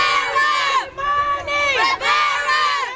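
A large street crowd protesting against gun violence chants and shouts in loud, sustained unison, with brief dips between rising waves of voices.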